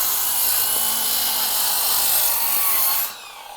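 A power saw rips along a chalked line through cedar decking boards outdoors, a steady loud broadband whine with a grinding edge that holds for about three seconds, then cuts off abruptly as the blade clears the board.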